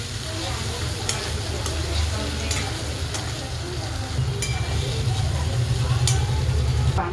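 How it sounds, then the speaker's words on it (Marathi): Stuffed eggplants fry in hot oil with a dense, continuous sizzle and crackle, close up, broken by a few sharp pops and spatters; a low hum underneath grows slightly louder in the second half. "आता एक जीव करूया तेलामध्ये आणि छान असे वांगी तळून घेऊया"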